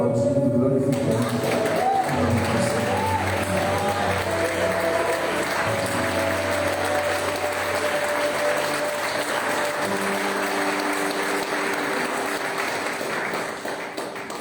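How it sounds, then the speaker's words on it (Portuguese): Church congregation applauding during a Baptist worship service, a steady wash of clapping sustained throughout, with voices and music-like tones mixed underneath. "Se você pode, levanta, aplaudindo, glorificando."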